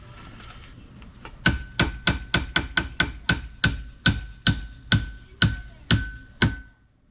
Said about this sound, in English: We need to just hammer it out from one side.